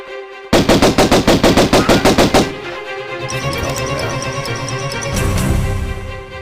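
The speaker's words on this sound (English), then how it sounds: "B, on the right hand, pulls up the pistols, and you have to pull them up or they don't shoot." Rapid string of pistol shots from dual pistols in the Tomb Raider VR mod, about a dozen loud evenly spaced bangs over two seconds, then ringing game ambience and effects.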